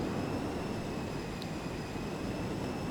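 Twin jet engines of an F-14D Tomcat in Microsoft Flight Simulator 2020 spool up on the ground, a steady, dense roar with faint high whining tones, loud and unbroken throughout.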